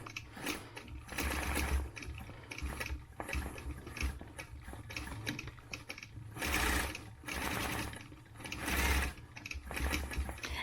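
A sewing machine stitches along rulers in quick mechanical bursts, its rapid whirring needle starting and stopping repeatedly between short pauses, clear and close.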